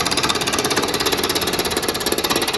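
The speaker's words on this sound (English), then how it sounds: "Now obviously the faster the lathe speed is, the smoother the cut's going to be." A wood lathe cutting a spinning workpiece, a loud, rapid, rhythmic chattering rasp with even pulses as the tool bites, steady and close with no talking.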